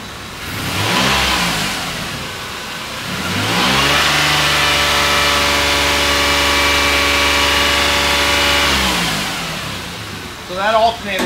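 A Toyota Highlander with a non-charging alternator idles, then its engine is revved up and held at raised RPM for several seconds before dropping back, loud and close.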